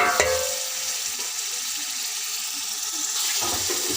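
Tomatoes and green chillies frying in beef karahi masala give a steady, broadband sizzle that holds for the whole stretch. A brief clatter comes near the start, and stirring noise swells again toward the end.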